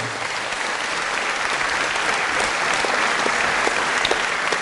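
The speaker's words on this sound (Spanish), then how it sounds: "Denle un fuerte aplauso a la palabra de Dios" Church congregation applauding after a scripture reading, a sustained, even wash of many hands clapping throughout with no speech over it.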